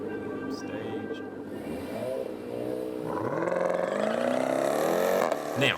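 A Jeep Trackhawk and a Volkswagen launch side by side at a drag strip, engines climbing into a loud, sustained roar of rising revs that builds through the second half and stays close and steady.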